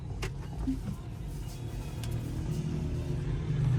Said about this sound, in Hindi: अब मैं रिवर्स करके अपनी गाड़ी अपनी पार्किंग में लगाऊंगा जी